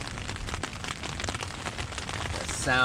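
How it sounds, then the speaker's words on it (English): Light autumn rain falling steadily on a campsite overnight, a soft continuous patter of drops close by with no voices. "Obviously, you can tell I'm getting a little rain"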